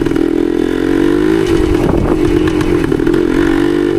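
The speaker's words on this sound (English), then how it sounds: "This bike has a lot of good grunt, low end. I'm in third gear right now." A 1972 Yamaha DT2 enduro dual-sport motorcycle engine pulls in third gear, a loud, close, steady chugging drone that holds without pause throughout, with no talking.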